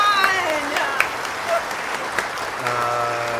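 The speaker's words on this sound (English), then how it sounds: "Here's a clap for John" Clapping sounds from a live-streamed Q&A, steady and moderately loud throughout, with voices calling out and talking over it.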